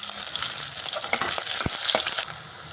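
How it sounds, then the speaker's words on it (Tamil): Steady crackling sizzle of onion, ginger paste and garlic paste sautéing over a low flame in a hot pan, with a few soft stirring clinks, continuous and fairly close, no voices. "இந்த இஞ்சி விழுது பூண்டு விழுது வெங்காயம் எல்லாமே லோ ஃப்ளேமில் வச்சு நிறம் மாறாமல் வதக்கியிருக்கிறேன்"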